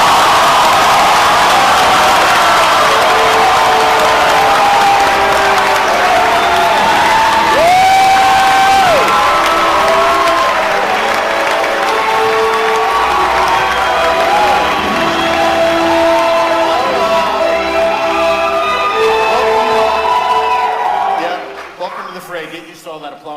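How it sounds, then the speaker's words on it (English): A large audience at a Marvel Phase 3 announcement event cheers, whoops and applauds loudly for about twenty seconds, with shouting voices throughout before the noise drops away at the end. "Get used to all that applause, by the way."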